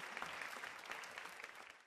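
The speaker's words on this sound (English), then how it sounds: "he left the building to applause." Students at a Japanese university applauding as the pope leaves the building, a faint, distant, even patter of clapping from a crowd, steady then slowly fading.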